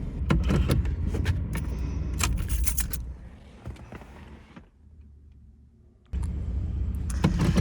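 A car drives slowly around looking for a parking spot at night near an abandoned gas station, with steady engine and road rumble, a brief quieter stretch mid-way, then the vehicle noise returning strong.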